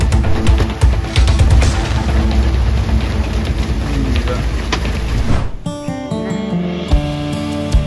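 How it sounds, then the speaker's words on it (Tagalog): Heavy rain and gusting wind roar steadily for several seconds around a van camping on a beach in Zambales, then drop off abruptly into quieter, cluttered background noise. "Talagang hinahagupit kami ng malakas na hangin dito at ulan."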